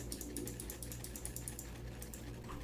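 Computer keyboard keys clatter in fast irregular clicks over a low steady hum, close and moderately loud with no voices.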